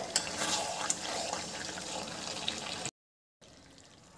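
A little water poured into Kashmiri chicken as it finishes cooking down in the pan: a steady, close splashing pour for about three seconds, a brief gap, then a faint trickle.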